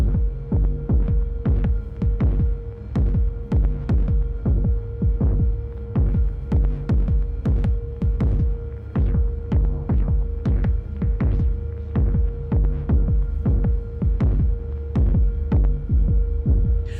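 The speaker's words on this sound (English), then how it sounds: "a heartbeat in the kick because we're driving a ton of tone from the overdrive into the diode filter" A distorted kick drum, overdriven into a diode filter, pulses steadily over a low humming drone, producing a throbbing, heartbeat-like rhythm that continues throughout.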